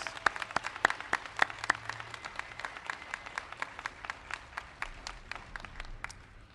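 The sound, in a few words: rally audience applauding parent advocates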